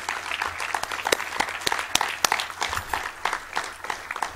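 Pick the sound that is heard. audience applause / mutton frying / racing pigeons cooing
audience applause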